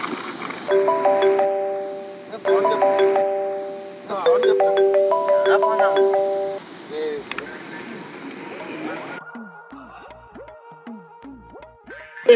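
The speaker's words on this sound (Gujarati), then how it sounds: "અરે મારો ફોન આવતો" An incoming-call phone ringtone plays a repeating electronic melody in loud phrases for several seconds, followed by a different chiming tone pattern, with people talking underneath.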